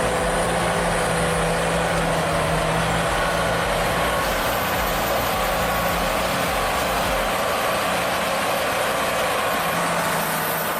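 Heavy truck and tractor engines straining together on a rough Russian forest track, a loud, continuous low diesel rumble with deep throbbing that shifts in load but never stops.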